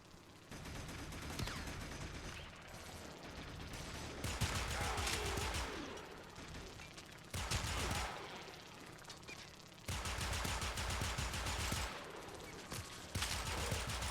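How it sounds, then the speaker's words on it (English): Warframe gunfire rattles in sustained automatic bursts, separated by brief lulls, fairly quiet overall with steady rapid shots. "Who else is shooting me?"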